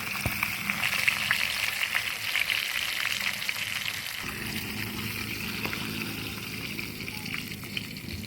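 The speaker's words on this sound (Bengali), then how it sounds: "মাছ ভাজা হয়ে গেছে, এবারে আমরা তুলে নিচ্ছি" Pieces of a large rohu fish fry in hot oil with a continuous close sizzle and crackle. The sizzle drops partway through, and a few utensil clicks are heard.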